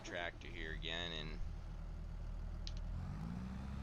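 A Massey tractor engine idles steadily in a farming video game, a low, even mechanical hum that runs throughout at a quiet level. A voice talks over the opening second and a half.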